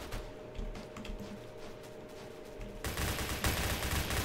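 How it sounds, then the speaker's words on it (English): Gunfire in the Roblox game Phantom Forces rattles in rapid bursts, a muffled exchange first that then grows louder and denser, with no talk over it. "Somebody's firing at me."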